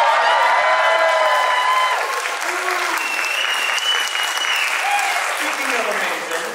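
A packed audience at the 2022 Pierce College award ceremony bursts into loud, sustained applause with whoops and cheering, a dense wall of clapping that holds steady and eases slightly near the end.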